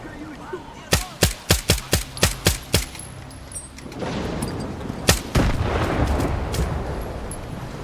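A weapon fires in S.T.A.L.K.E.R. 2 as a rapid series of about ten loud, sharp single shots in even rhythm, then a rough roaring wash with a few more heavy booming blasts.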